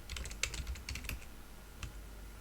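Computer keys clicking close by, a quick cluster of taps followed by one more isolated keypress, quiet and crisp with no talking.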